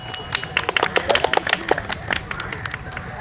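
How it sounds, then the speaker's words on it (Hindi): A small group at a study-session awards for toppers claps in a loose, irregular patter of sharp hand claps, close and fairly loud, with faint voices underneath. "ताली बजा दी।"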